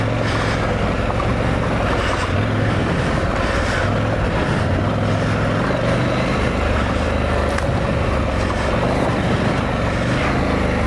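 A Honda dual sport motorcycle rides over loose ground off-road, its engine a steady, loud drone with rough rumble and constant wind noise throughout.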